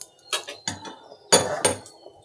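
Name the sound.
opening lid and stirring potato eggplant in pan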